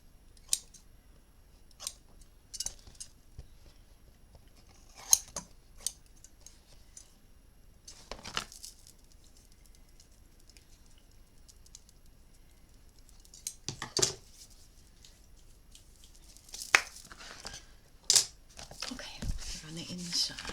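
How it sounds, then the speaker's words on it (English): Scissors snipping excess tape while a hardcover notebook is made, a few separate crisp cuts spaced seconds apart over a quiet background, with faint handling and crinkling between them. "Trim off any excess"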